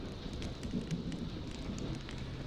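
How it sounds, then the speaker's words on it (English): Steady rain falls in a Honkai Star Rail game scene, a dense, even hiss of drops that fills the background without pause. "You're lucky to have found shelter from the rain."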